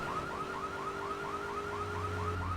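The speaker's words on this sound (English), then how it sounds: "Yeah, I know you put an alarm on it, but that's really not going to help." A car alarm in the video game GTA 3 wails in a steady repeating whoop pattern, loud and continuous, with a low engine-like drone joining near the end.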